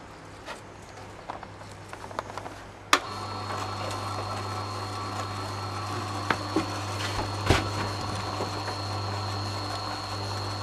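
A juicer presses pineapple with green leaves, starting a few seconds in with a steady, quiet motor hum and a faint high whine that runs to the end, with occasional small clicks and no voices.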